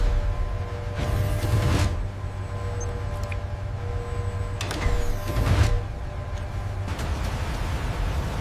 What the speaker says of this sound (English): The motorized security gate slides into place